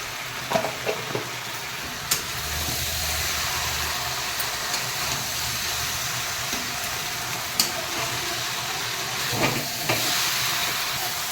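Malabar spinach cooking with hilsa fish head and spices, a continuous loud sizzle with a few sharp utensil clicks and stirring scrapes, no voices.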